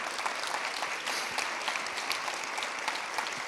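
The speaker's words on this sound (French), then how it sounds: "je vous demande de l'applaudir" An audience in a hall at a Rochefort film and music festival applauds its founder, a sustained, even patter of many hands clapping at moderate distance with no break.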